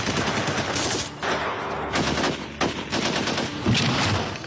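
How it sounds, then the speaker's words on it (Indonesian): Police gunfire in an action film shootout, loud bursts of rapid automatic shots in several volleys with brief gaps, close and dense throughout. "Pasukannya mengepung ketat, tapi tembakan mereka semuanya meleset."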